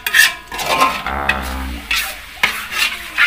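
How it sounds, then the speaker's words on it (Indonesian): A spice paste is stirred and scraped around a pan for kentang mustofa, frying with a steady sizzle broken by several louder utensil scrapes against the metal, close and continuous with no talk. "bumbu tadi digongseng seperti ini ya"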